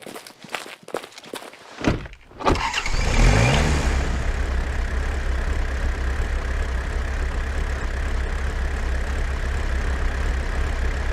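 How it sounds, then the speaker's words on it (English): A car in the Way of The Hunter game: a few thuds like footsteps, then an engine starts and revs, and a steady rumbling drive noise continues to the end at a moderate level. "here you can see how we have tested movement of the car in this testing level"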